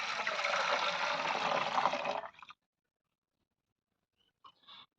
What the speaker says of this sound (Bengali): আমি এবার নামিয়ে নিয়েছি জলটাকে। এই পাত্রেতে এবার ঢেলে নেব।